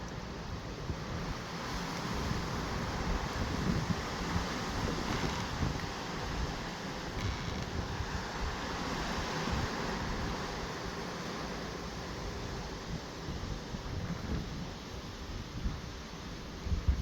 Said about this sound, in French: il vient d'y avoir une rafale à 80 km/h pour moi